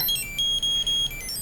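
An XY3 Bluetooth tracker gives a few quick high-pitched electronic beeps in succession, close and fairly loud, with a faint hum underneath.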